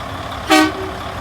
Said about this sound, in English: Okay, that was truck horn.